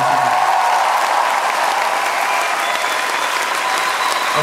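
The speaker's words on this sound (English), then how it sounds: "Can I get just a big round of applause" A concert audience at a live show claps and cheers in a dense, continuous burst of applause that holds steady for several seconds.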